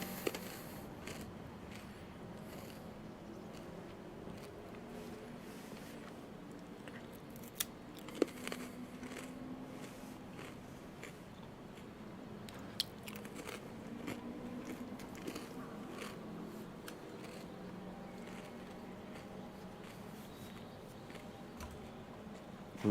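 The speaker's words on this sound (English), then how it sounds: "Move that away so you don't hear me chewing." A person chews food right next to the microphone during a Gran Turismo 7 live stream, giving soft crunches and wet clicks over a steady background hiss, with no talking.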